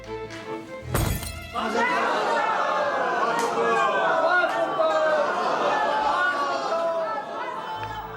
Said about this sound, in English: the bridegroom must trample the glass